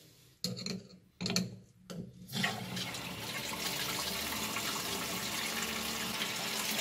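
Water runs from an opened tap into the cistern of a wall-hung toilet during installation: a few short knocks and splashes come first, then a steady, close rushing flow continues to the end.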